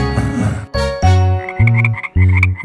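Loud, close frog croaks come in a rhythmic series of deep, buzzing calls, several in quick succession within a few seconds, set in a children's Halloween song.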